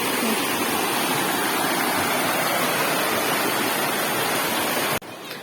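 A waterfall pours out a loud, steady, close roar of rushing water that fills the scene and then drops off abruptly near the end.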